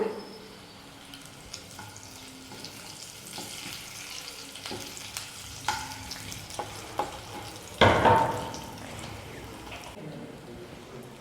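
Curry leaves crackle and sizzle in hot oil, a continuous frying hiss dotted with small pops and stirring clinks, with a sudden louder burst of spattering near the end.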